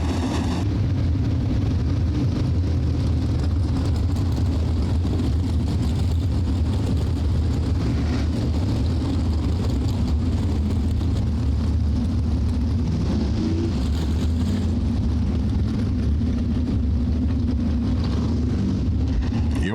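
A 360 sprint car leaving the pit area at Rapid Speedway during a weekly racing series night, its engine a loud continuous roar heard from the track without a break.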